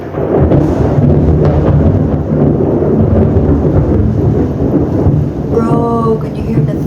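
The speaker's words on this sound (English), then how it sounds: "can you hear the thunder?" Thunder rumbles as a low, continuous roar during a typhoon, mixed with steady rain noise, loud and enveloping throughout with a brief higher-pitched sound near the end.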